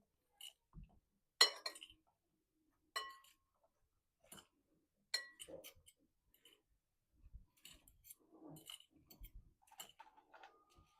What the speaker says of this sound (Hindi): अच्छे से मिक्स कर देंगे इस तरह से 2 कांटों की मदद से